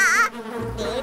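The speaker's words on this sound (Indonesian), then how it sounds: "Nyamuk-nyamuk ini sangat mengganggu." Cartoon mosquitoes buzz in a high, wavering whine that wobbles up and down, loud and close, briefly dipping before returning over about a second, with no talk.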